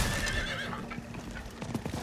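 A horse in Diablo 4 gives a loud, close neigh and then trots off, its hooves clip-clopping in an uneven patter.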